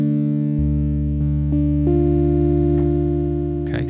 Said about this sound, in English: on engine 1, we've got a wavetable called Sign Language, which sounds like this.